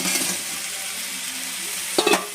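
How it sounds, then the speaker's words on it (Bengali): Fried jackfruit and potato tipped into cooked masala in a pan, a steady soft sizzle with a couple of quick scraping stir strokes near the end, no talking. "এঁচোর আর আলুটা ভেজে রেখেছিলাম সেটা দিয়ে দিচ্ছি এতে"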